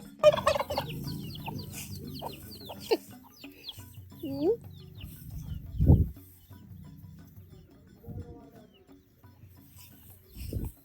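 Turkeys gobble and chickens cluck nearby, with bursts of loud calls and some distant voices in between.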